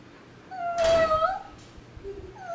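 A voice imitates a cat, giving one drawn-out, wavering meow, then a shorter call near the end, fairly close and clear.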